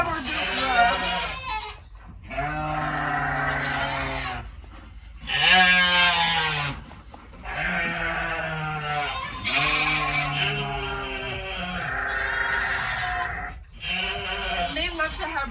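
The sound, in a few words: goat bleating at breakfast on a farm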